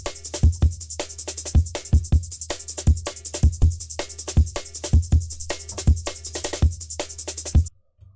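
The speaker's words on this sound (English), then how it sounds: "Classic break." Classic breakbeat drum loop playing in FL Studio for a jungle/DnB track, a steady chopped pattern of deep kicks, crisp snares and sizzling hats, loud and upfront for about eight seconds before cutting off abruptly.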